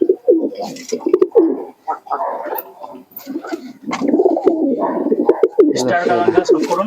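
Pigeons, including tippler, Andra and Madras breeds, coo in a loft in Nabadwip, their soft repeated calls mixed with close speech from people talking throughout.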